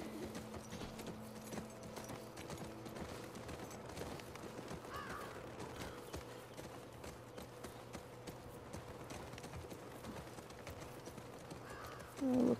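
Horse hooves walking in the video game The Last of Us Part 2, a soft continuous clip-clop under a low ambient game soundscape with faint crow caws, rising briefly at the very end.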